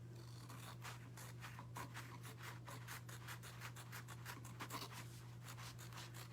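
Close, faint rhythmic scraping and rubbing as the edge of a Valentine reverse canvas is trimmed, steady repeated strokes with no talk over them.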